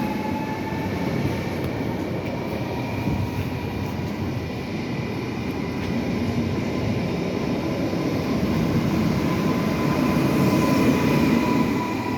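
Two locomotives pass nearby with a low, continuous rumbling drone and faint whining tones, loud and unbroken throughout.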